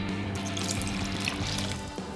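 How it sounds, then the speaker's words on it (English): Water pours steadily and close up into a pot of black soy beans for a couple of seconds, a full gushing splash with a rising tone as the pot fills. "And then I'm going to add the water"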